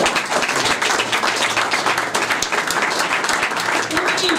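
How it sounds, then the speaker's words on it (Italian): Audience applause at a public meeting with a famous Italian cycling champion, a dense, lively round of clapping that continues throughout, with some voices mixed in. "allora un applauso ci vuole"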